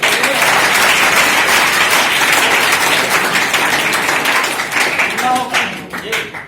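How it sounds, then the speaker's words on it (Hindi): Loud, sustained applause from an audience at a talk, thick clapping that gradually thins out toward the end as a few voices come through. "जोरदार ताली"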